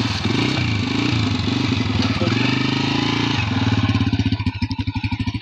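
A motorcycle engine starting and revving loudly up close outdoors among herded goats in Pakistan, a steady throbbing chug that rises and settles into a pulsing idle, with a voice calling out over it.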